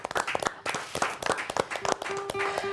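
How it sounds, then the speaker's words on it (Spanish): Family members at a gathering remembering a relative break into clapping, a dense patter of close hand claps mixed with voices and brief vocal sounds. "un aplauso, un, gran aplauso para mí"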